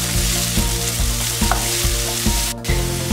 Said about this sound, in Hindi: अब हम इसमें प्याज डाल देंगे और प्याज को भी लाइट ब्राउन होने तक हम भूनेंगे।